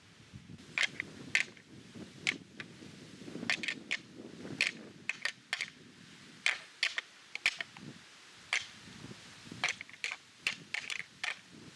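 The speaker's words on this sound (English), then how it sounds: "I was rattling a lot more aggressively, a lot louder, in hopes of reaching out to something" Sharp clacking and rattling of antlers knocked together in irregular, aggressive bursts to attract whitetail deer, fairly close, with wind noise underneath, on a cold, windy day bow hunting in Illinois.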